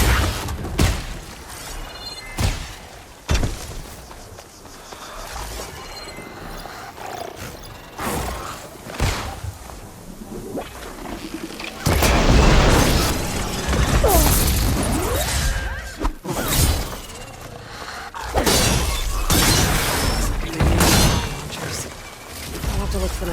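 Repeated explosive blasts and crashing impacts from mine launchers in Horizon Forbidden West, loud bursts and thuds scattered through a busy stretch of combat with whooshes between hits.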